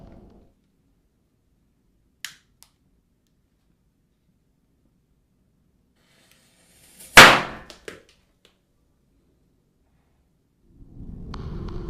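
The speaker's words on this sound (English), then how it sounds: "a man wearing a mask covered in bananas with firecrackers embedded in them as he methodically lights each one" Firecrackers embedded in bananas on a mask go off one at a time: a faint early pop, then one sharp loud bang, followed by quiet and a rising noisy rumble.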